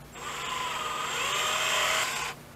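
A power polisher from a Meguiar's restoration kit spins up and runs with a steady high whir for about two seconds before cutting off, close and alone.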